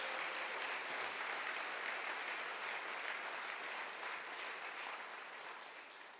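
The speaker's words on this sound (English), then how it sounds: "round of applause for Goose again." An audience claps at a men's alliance birthday celebration, a broad, sustained wash of applause heard from some distance, even and fairly faint, easing slightly toward the end.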